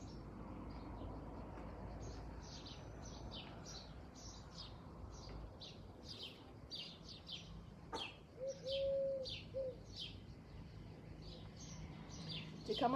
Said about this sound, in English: Inhale all the sounds, the birds chirping.